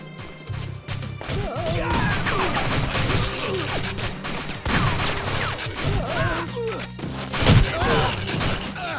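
Gunfire in the video game TimeSplitters 2: a dense, loud stretch of crashing shots and impacts that keeps going for the whole span, with brief bursts and thuds rising above the rest.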